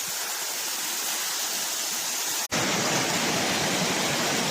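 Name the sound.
waterfall cascades on a beck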